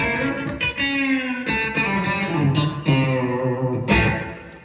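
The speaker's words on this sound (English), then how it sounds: "what you're hearing is my pedal board going into a Strymon Iridium pedal" Electric guitar through a pedal board into a Strymon Iridium amp simulator, playing a B-bender lick of overdriven, effected notes with bends and sustained ringing tones, close and steady, with no talking.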